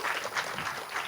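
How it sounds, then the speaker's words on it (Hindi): Crowd applause for producer Ajay at the Fever film trailer launch, a steady broadband wash of clapping that holds throughout without pause. "एक बार जोरदार ताली होनी चाहिए अजय के लिए"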